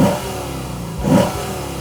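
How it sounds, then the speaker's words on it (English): A 2023 Lexus IS500 F Sport's 5-liter naturally aspirated V8 barks through its quad exhaust tips in two quick, loud, close revs, with the engine dropping back to idle between them. "quad exhaust tips that lead back to that 5-liter naturally aspirated V8"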